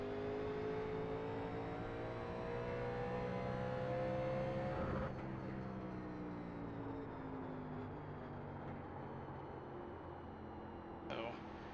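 A 1987 NASCAR stock car engine in the iRacing sim drones and rises steadily, then drops off as the throttle changes, a loud continuous mechanical roar with a brief sharp burst near the end.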